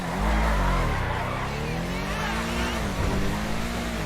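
A Cypher sports car in GTA V Online revs and drives with a steady, loud engine drone that rises and falls in pitch, with someone talking over it.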